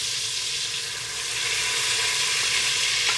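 Onions frying in bacon grease in a pan, a steady, bright crackling sizzle that holds evenly throughout, close and without talk.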